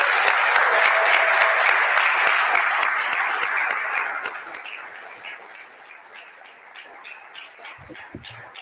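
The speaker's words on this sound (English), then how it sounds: "put your hands together for all the EJA team" A large audience claps loudly at first, then the applause thins and fades, leaving scattered claps and a few faint voices near the end.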